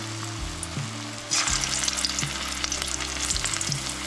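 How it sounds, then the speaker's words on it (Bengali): Cornflour-coated paneer pieces deep frying in hot oil in a kadai, a loud steady crackling sizzle that swells sharply as more pieces go in, over a low background hum. "পনিরগুলো দিয়ে দেব।"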